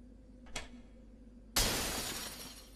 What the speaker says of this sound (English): just release it and it'll drop a bunch of glass everywhere